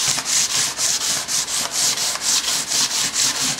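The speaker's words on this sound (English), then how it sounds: "Just use a little block of wood as my sanding block." Hand sanding wood with 220 grit paper wrapped on a small wooden block: steady back-and-forth rubbing strokes, about three per second, close and clear with no talking.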